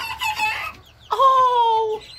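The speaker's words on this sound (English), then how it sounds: "So I just wanted to have you guys hear the rooster crow," A rooster crows nearby, a short clucking phrase followed by a long, loud sustained crow.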